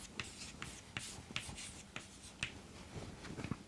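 Chalk or marker strokes on a board during a mechanics lecture, with several distinct taps and scratches at irregular intervals, close and moderately loud, and no speech over them.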